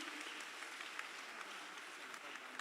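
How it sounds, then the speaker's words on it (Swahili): Applause from a church Sunday school gathering at ACK Thika, a steady crowd clapping throughout with no break. "Wapigieni makofi."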